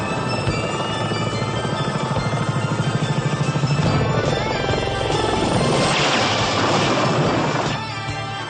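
An aircraft, heard as a loud, pulsing helicopter-like rotor thrum, plays from a 1980s TV show soundtrack and stays steady and close before easing slightly near the end.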